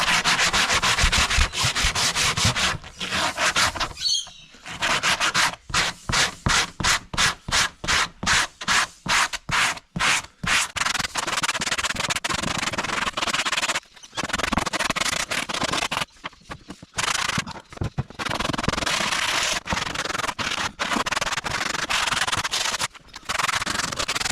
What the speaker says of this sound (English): use a brush and my little nylon brush to clean the rest of this foam off